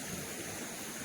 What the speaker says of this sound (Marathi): उपलड म्हणजे जमिनीतून पाणी येतं वर